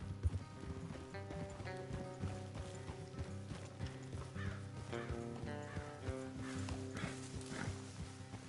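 Horse hooves clip-clop steadily at a walking pace in the video game Red Dead Redemption 2, over a low droning backdrop with faint creaks and tonal hum, no voices.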